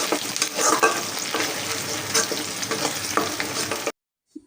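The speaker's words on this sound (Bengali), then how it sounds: "আর তার জন্য পেঁয়াজ ভেজে নিতেছি।" Onions fry in a pan with a dense, steady sizzle and occasional stirring scrapes, close and loud, then cut off abruptly into silence near the end.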